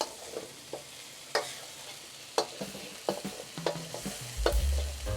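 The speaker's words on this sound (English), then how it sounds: "Stir around for about 10 seconds, making sure you pick up the bits of beef stuck to the pan." Beef pieces stir-fried in a hot pan with Chinese cooking wine, a soft steady sizzle broken by sharp scraping clacks of the utensil against the pan at irregular intervals, with a low rumble swelling near the end.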